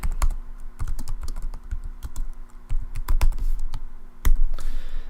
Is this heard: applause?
no